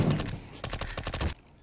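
A rapid volley of rifle shots in Counter-Strike: Global Offensive, a dense rhythmic string of close, loud reports that stops abruptly.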